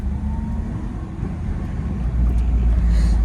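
Budget Toyota MR2 with a blown head gasket pulling on a road, a steady low engine and road rumble heard from inside that grows slightly louder toward the end.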